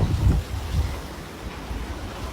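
Sea waves breaking in front of a villa pool in the Maldives, a low steady surf wash with a couple of louder swells early on, mixed with some wind rumble and no voices.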